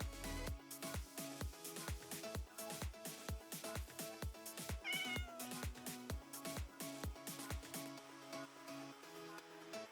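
A Minecraft cat meows repeatedly in a regular series of short, clear calls, moderately loud and close, with faint game sounds and no talk over it.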